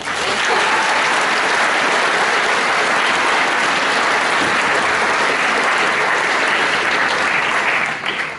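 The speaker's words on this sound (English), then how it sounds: "we are give a round of applause, please" A large crowd gives sustained, loud applause at a Year 13 graduation ceremony, a thick, even wash of clapping that runs without pause for several seconds.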